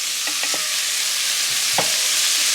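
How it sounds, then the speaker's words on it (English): Food sautéing in a pan gives a steady, bright sizzling hiss with a few soft stirring knocks, close and continuous throughout. "So you're gonna saute this for a couple of minutes until it's fully cooked and soft"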